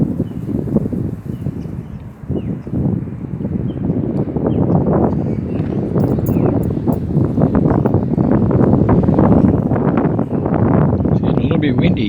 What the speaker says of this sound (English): It's getting a little bit windy here today.